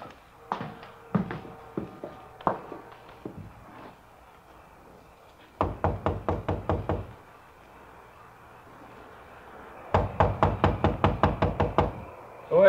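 Radio-drama door knocking: a few scattered single knocks, then two bursts of quick, evenly spaced raps on a wooden door, close and sharp against a quiet room.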